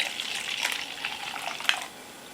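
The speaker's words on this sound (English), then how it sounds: "let's get out the finest bachelor's glassware and pour some of this in" Mountain Dew Baja Gold soda pours into a glass, a close, steady fizzing hiss with a few sharp splashes and bubbly crackles before trailing off.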